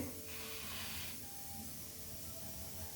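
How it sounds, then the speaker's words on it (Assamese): Pieces of fish frying in a pan as part of a taro root and fish curry, a steady broadband hiss that holds throughout at moderate, even loudness, with no talking. "এতিয়া মই এইখিনি মোৰ মাছ ফ্ৰাই হৈ আছে"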